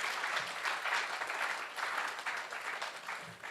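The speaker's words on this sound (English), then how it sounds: "if we can give a round of applause for them" Applause from a conference audience at an internet summit in Ghana, a dense, even patter of many hands clapping at moderate volume, steady for the whole stretch with no voices.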